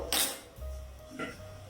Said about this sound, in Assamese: ফ্ৰাই পেন দিছো।